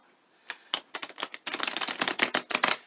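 A deck of tarot cards being shuffled by hand, heard as rapid papery clicks and flutters that begin sparse and build into a dense, continuous riffle, close and fairly quiet.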